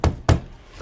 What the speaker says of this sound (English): Another 3 loud knocks on the door.